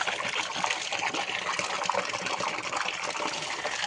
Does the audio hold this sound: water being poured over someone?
yes